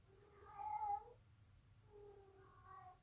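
A cat named Piper gives two soft, drawn-out meows a moment apart, faint and fairly distant in a quiet room.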